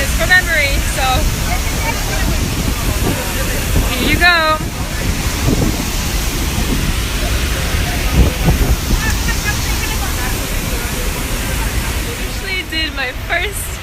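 A waterfall in East Bali roars steadily, a loud, unbroken rush of falling water with heavy mist. A voice speaks briefly over it at a few points.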